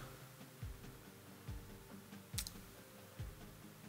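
Sparse mouse clicks while exporting photos in editing software for a DJI Mavic Pro drone hyperlapse, about five faint, evenly spaced clicks over a quiet background hum.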